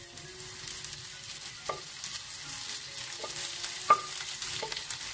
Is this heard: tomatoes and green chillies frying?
yes